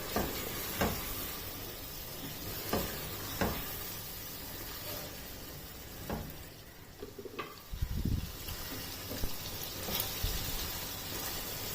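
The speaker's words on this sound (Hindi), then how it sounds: "अब इस भी को भी कीमे में 3 से 4 मिनट तक अच्छी तरह से भून लेना है।" Minced meat being fried with boiled lotus root in a pan: a soft, continuous sizzle with a few light scraping strokes of stirring, fairly quiet and close, with a brief louder clatter partway through.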